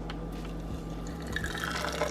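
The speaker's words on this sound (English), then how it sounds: "I'm going to pour the water in order to brew it" Hot water pours steadily over cinnamon toast black tea leaves in a tea strainer, a continuous close splashing and trickling stream that grows slightly fuller toward the end, alone without talking.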